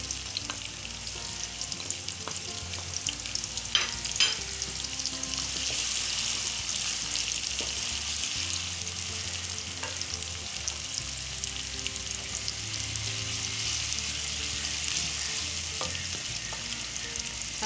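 A finely chopped medium onion softens in hot oil for a black pepper chickpea dish. It gives a quiet, steady frying crackle with faint stirring clicks, heard alone without voices.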